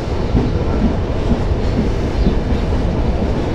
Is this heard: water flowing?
no